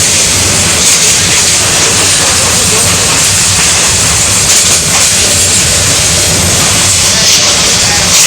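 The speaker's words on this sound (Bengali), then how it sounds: "ট্রেনের আওয়াজটুকু শুনুন ঝিকঝিক ঝিক করতেছে" A Jamalpur Express train rumbles steadily on its rails between Jamalpur and Mymensingh, a dense, constant roar with hiss and faint rhythmic clatter throughout, loud and close.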